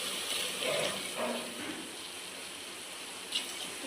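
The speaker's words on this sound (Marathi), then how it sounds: "आता आपण याच्यात पाणी टाकून घेऊ" Water poured into a pot of spicy mutton curry, a soft, steady gushing splash close by that swells briefly and then settles into a lower trickle, with no voices.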